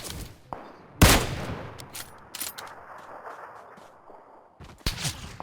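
Gunfire in PUBG on the Miramar desert map, a few sharp, loud shots standing apart from quieter distant battle noise, with a strong crack near the start and another pair of bursts near the end.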